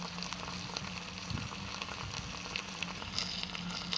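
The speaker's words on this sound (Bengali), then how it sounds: "আমি মশলা কষিয়ে নেব সুন্দরভাবে" Turmeric, chili powder, cumin and salt frying in oil for shrimp bhuna, a dense continuous sizzle with occasional stirring sounds, close and even throughout, no voices.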